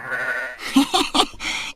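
A sheep gives a short series of wavering bleats, close and clear, with a few quick pulses in a row and no talk.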